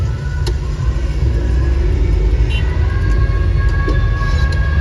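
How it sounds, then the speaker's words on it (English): Dense Bangalore road traffic forms a steady, loud low rumble of engines throughout, with faint tonal honks and whines drifting over it. "Bangalore's infamous traffic"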